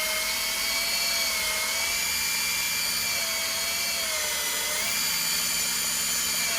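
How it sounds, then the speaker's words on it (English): A handheld power tool spins a Scotch-Brite pad wrapped around an old Snap-on socket to remove rust, producing a loud, steady high-pitched whine with slight pitch wavers as pressure changes, running without pause and without talk. "take your Scotch-Brite pad, wrap it around it, and just pull the trigger"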